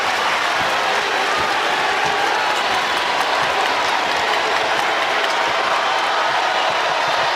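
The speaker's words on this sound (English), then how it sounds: "Terrific crowd as always here in Columbia" A big basketball crowd in Columbia roars throughout a South Carolina versus Texas game, a steady, loud wall of cheering and arena noise with no break.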